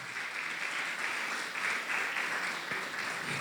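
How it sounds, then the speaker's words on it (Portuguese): A church congregation applauds for Jesus, a soft, even wash of many hands clapping at a distance, steady throughout with no voices rising over it. "Dê uma linda salva de palmas para Jesus."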